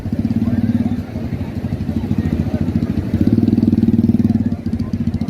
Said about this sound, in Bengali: এগুলো হলো সি বিচের বালির উপরে চলার জন্য রেসিং গাড়ি লড বাইক